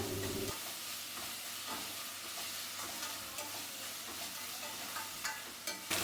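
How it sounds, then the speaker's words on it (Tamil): Crushed garlic and tomato sauté in a pan for an egg curry, giving a steady, dense sizzle and hiss that carries on throughout, with faint stirring scrapes and no talking. "பூண்டோட பச்சை வாசம் போகிற வரைக்கும் நல்லா வதக்கணும்"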